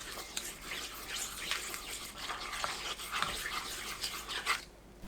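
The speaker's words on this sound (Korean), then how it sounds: "마요네즈 2큰술, 레몬즙 1큰술, 진간장 1큰술, 검은 깨 섞어주세요." A spoon stirs mayonnaise, lemon juice, soy sauce and black sesame together in a bowl, with soft, wet, irregular scraping and squelching, faint and close, for several seconds.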